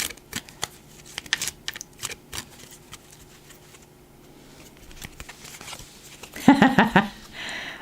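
Oracle cards from the Fey Forest Oracle deck being shuffled by hand, a soft scattered patter of card flicks at moderate level, rising into a brief, crisper riffle burst near the end.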